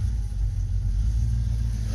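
A car engine running on a test ignition coil and misfiring badly, a close, low, uneven rumble with throbbing pulses, no voices.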